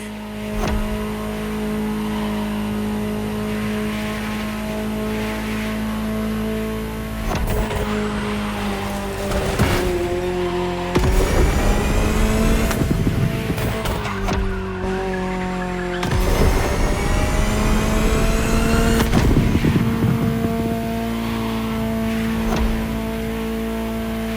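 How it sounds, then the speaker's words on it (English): A Ferrari supercar engine in The Crew Motorfest racing game holds a steady loud drone, revving up in several rising sweeps with tire squeal and skidding between them. "Just listen to the car you're driving."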